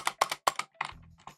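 Keys clacking on a budget Attack Shark X98 Pro keyboard, a quick burst of several sharp, close taps followed by a duller thud that sounds like the space bar, all without any voices.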